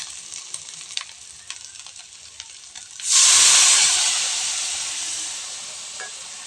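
A pan of prawn malai curry with salt gives a sudden loud sizzle and hiss as water goes in. The sound bursts up midway, then eases into a steady, softer bubbling hiss after light stirring clatter.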